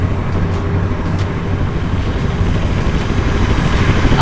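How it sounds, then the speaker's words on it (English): Helicopter in the video game Teardown, a loud, steady rotor and engine roar that fills the whole stretch close up, with no talk over it. "So today we're going to have to survive some helicopter crashes."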